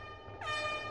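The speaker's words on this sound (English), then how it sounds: "Air horn." A short burst of the MLG air horn meme sound effect, a bright, brassy, blaring tone that swells abruptly partway through and holds loud to the end, with no voices.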